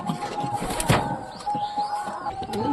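Pigeons feed and coo softly nearby, including a few local Giribaz tumblers, in a steady low murmur with occasional louder bursts from the flock.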